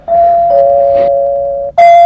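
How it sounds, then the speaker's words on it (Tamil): A doorbell rings loud and close, a long sustained electronic tone that shifts pitch partway, pauses briefly, then sounds again with a brighter chime, with nothing else heard. "பாத்தீங்களா, மறுபடியும் காலிங் பெல் சத்தம்."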